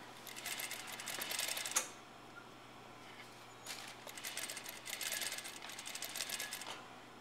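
A sewing machine stitches down the side seam of a blouse in two bursts of steady whirring, separated by a short pause and heard up close without talk.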